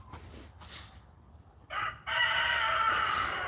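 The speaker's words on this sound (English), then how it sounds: "You got chickens too, Isla?" A rooster crows loudly and close by after a few soft clucks, the crow holding on to the end.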